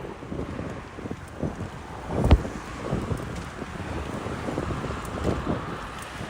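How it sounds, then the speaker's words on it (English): Strong wind buffets the microphone in rough, gusty bursts on a bike ride around Jamaica Bay, New York City, with a sharp knock partway through and no talking. "It's very, very windy today."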